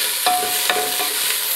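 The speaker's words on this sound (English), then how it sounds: "We have to put celery inside the pan." Celery stirred in a hot pan, with a close, continuous sizzle broken by a few quick scraping strokes.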